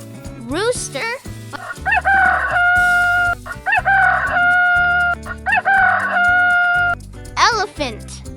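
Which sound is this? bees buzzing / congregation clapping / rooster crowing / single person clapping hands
rooster crowing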